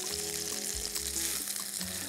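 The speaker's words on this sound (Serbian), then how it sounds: "Ovo ne trebate puno da pržite, prosto želim samo da onako puste sve svoje sokove" Fresh pineapple and other fruit fry in a hot pan as a filling for chicken steak, giving a loud, steady sizzle throughout with a brief low thump partway through and no talking.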